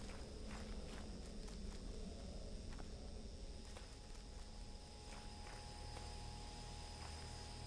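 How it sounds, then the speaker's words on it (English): Soft, regular footsteps in the Fallout game Tale of Two Wastelands, around Springvale Elementary School, tap along faintly over a low steady ambient hum. "I hear footsteps."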